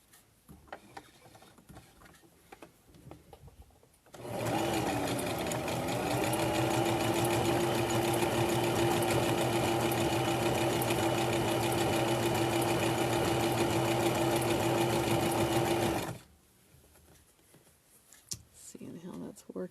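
A sewing machine stitching fabric for a headband runs in one steady, continuous burst of about twelve seconds, a close, even mechanical whir with a faint tonal hum, with quiet room sound before and after.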